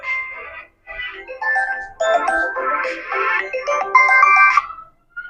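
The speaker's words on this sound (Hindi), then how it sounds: "बीच में एक छोटा सा फोन आ गया" A phone ringtone sounds during a Class 10 trigonometry lesson as a call comes in, a bright melodic tune playing in several phrases over about five seconds, fairly loud and close with no talking.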